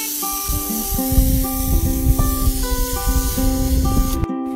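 Foam gun sprayer from an 8-in-1 horse showering tool spraying a horse, a continuous hiss of spray with a background tone, cutting off abruptly near the end.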